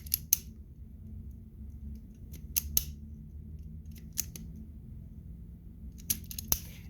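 Wire cutters or snips close sharply several times on wiring at the switch of a Huskee log splitter with a Kohler engine, making crisp close snaps in small clusters against quiet background hum.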